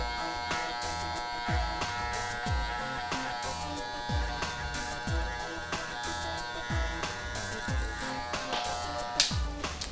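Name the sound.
electric hair clippers buzzing during haircut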